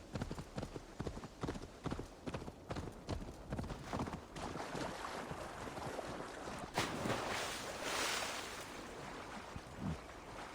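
Steady clip-clop of horse hooves in Assassin's Creed Valhalla, a quick rhythmic clatter close by, with a few heavier thumps as the horse climbs over walls and a brief rushing swell partway through.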